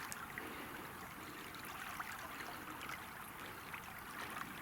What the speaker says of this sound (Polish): Zobaczcie, jaki fajny przelew.